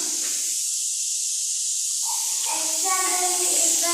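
Pressure cooker boiling potatoes on a kitchen stove, a steady high steam hiss running throughout, moderately loud, with a voice talking over it near the end.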